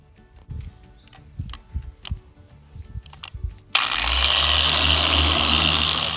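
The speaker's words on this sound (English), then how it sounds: "Now I'm gonna go ahead and start buffing this." A dual action variable speed polisher buffs automotive paint. After some quiet handling clicks, the machine kicks on abruptly partway through and holds a loud, steady whirring drone to the end.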